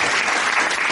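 A crowd at a fiftieth priestly anniversary celebration bursts into steady, dense applause, a loud continuous wash of many hands heard only briefly.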